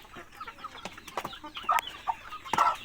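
A pale yellow, white-tailed chicken from Ubon province clucks and murmurs in short, scattered bursts at close range, with scuffling and a louder squawk toward the end.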